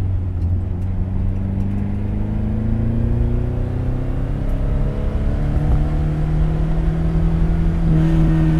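A 1967 Ford Lotus Cortina Mk2 engine revs loudly and continuously, with its drone rising and falling in pitch as it climbs through the revs, heard close and alone.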